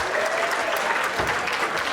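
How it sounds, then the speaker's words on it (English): An audience at an international dinner gives a round of applause after a line dance performance, continuous crowd clapping that stays full and even for the whole short stretch. "One more round of applause, please, for the line dance."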